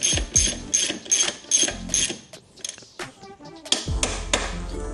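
Rapid ratcheting clicks from a tool tightening the rear wheel screws on a P-51 e-bike, in several quick bursts of close, loud mechanical ticking with short pauses between them.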